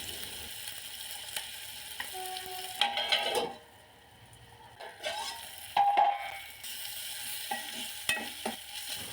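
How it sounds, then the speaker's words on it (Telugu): Chopped tomato frying in oil in a pan, with stirring scrapes and a steady soft sizzle that rises and falls, broken by brief clinks of utensils and a quieter pause midway. "ఇందులోకి తరిగి పెట్టుకున్న ఒక పూర్తి టమాటోని వేసుకోండి. ఇది కాస్త ఫ్రై అవ్వాలి."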